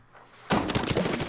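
In the Splatoon video game, a machine-gun-like ink weapon suddenly opens fire, and a rapid stream of sharp, even shots continues loudly after a quiet start.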